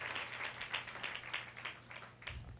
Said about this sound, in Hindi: जोरदार ताली बजाएंगे प्रभु यीशु के लिए।